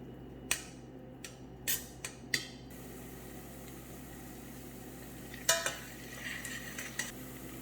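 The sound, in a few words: onion sauteing in olive oil in a pan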